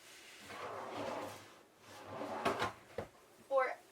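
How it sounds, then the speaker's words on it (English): Two large storage drawers under a queen-size bed in a renovated Argosy Airstream RV slide and knock, giving a few quiet wooden bumps and a short rattle near the end, with low room noise between them. "we have our 2 big drawers"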